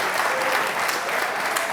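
Audience applause fills a hall at a community awards ceremony in Lichfield, a steady dense wash of many hands clapping at close range, continuous and fairly loud throughout.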